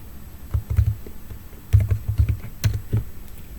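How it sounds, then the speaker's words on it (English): Typing on a computer keyboard while searching for an image in Figma, with scattered clusters of quick keystrokes and short pauses between them, close and clear with no talking. "you just type it"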